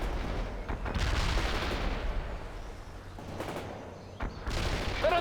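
Gunfire and heavy weapons from the Cold War strategy game World in Conflict, a dense continuous barrage of shots and booms with louder bursts recurring every second or two across the battlefield.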